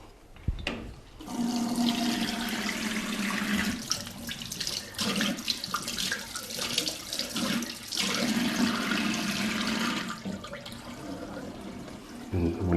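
Tap water running into a sink to wet a beard brush, a continuous gushing flow close by with shifting splashes as the brush moves under the stream, briefly interrupted midway before resuming.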